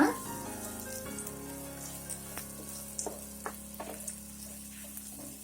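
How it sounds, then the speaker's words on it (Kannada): Onion and garlic frying for seasoning in a pan for Monsoon pathrode, a steady soft sizzle with scattered crackles and light stirring taps, no talk over it. "ಸ್ವಲ್ಪ ಅರೋಮಾ ಬರುವಷ್ಟು ಫ್ರೈ ಮಾಡ್ಕೊಂಡ್ರೆ ಸಾಕು."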